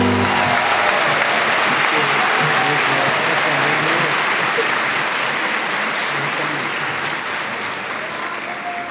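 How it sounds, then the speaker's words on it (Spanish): A large audience at a university graduation ceremony applauds the new financial administration graduates with loud, sustained, even clapping that continues for the full length and eases only slightly at the end. "Kimberly Andrea Villamil Camelo, demos un fuerte aplauso a los nuevos administradores financieros."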